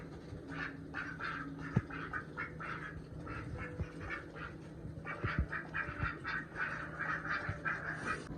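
Ducks quack repeatedly in a loose, overlapping chorus, fairly close, with a few soft knocks and thumps around them and no talking.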